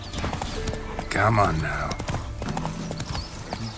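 A horse named Roach clip-clops at a trot in The Witcher 3, hoofbeats close and rhythmic with a brief whinny, under a man's spoken urging.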